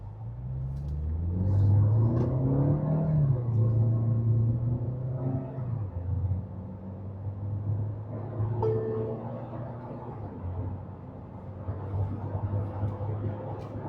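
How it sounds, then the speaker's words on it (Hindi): Tata petrol SUV with a turbo petrol engine accelerating hard from standstill to 100 km/h, a loud, steady engine drone rising in pitch with brief gear-change dips over continuous road and cabin rumble. "करते हैं इसका 0 to 100 टेस्ट कि ये गाड़ी 0 से लेकर 100 तक कितने सेकंड में जाएगी टर्बो पेट्रोल इंजन के साथ"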